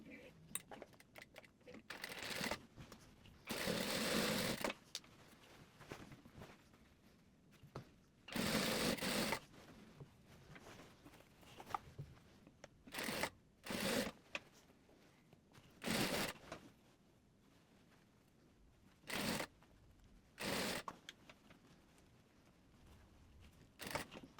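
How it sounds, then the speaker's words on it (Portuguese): A domestic sewing machine stitches a mermaid-style dress beside a zipper seam in short, loud, close bursts of rapid whirring separated by pauses, clicks and fabric handling. "Nós vamos costurar aqui, ó, bem ao lado da costura que nós fizemos do zíper."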